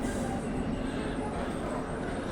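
A double-deck passenger train on line S7 rumbles steadily nearby with a continuous low roar and faint rail noise, no pauses, as it rolls into a station.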